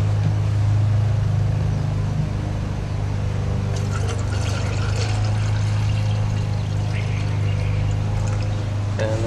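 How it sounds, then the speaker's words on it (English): Water pouring into a metal tin, a steady close splashing trickle over a low background hum, its tone brightening partway through as the tin fills. "I'll put some water in there as well."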